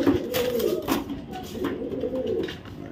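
A healthy male racing pigeon from the BRPL 2023 race cooes in repeated low, throaty rolls, close and fairly loud, with a steady soft background murmur behind it and no talk over it.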